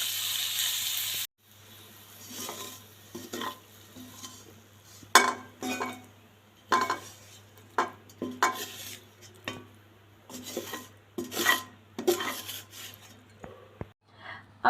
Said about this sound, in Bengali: এটাকে আমি খুব ভালো করে নেড়ে চেড়ে দিচ্ছি